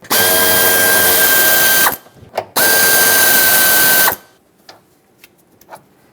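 Two long, loud runs of a power ratchet remove 8mm bolts from a bracket on the firewall of a 1999-2016 Ford E-350 with a 5.4L V8, with a short pause between them and then quiet handling clicks.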